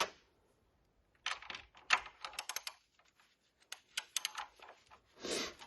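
Ratchet with an 18 mm socket backing off motor mount nuts on a Ford Focus, heard as bursts of rapid, close clicking separated by short pauses, with no talking.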